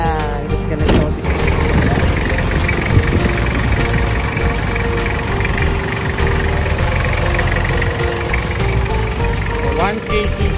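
A 1999 Toyota Land Cruiser Prado 90 Series with a 1KZ turbo diesel engine runs steadily at idle, a loud continuous mechanical clatter and rumble, with occasional voices and background noise nearby.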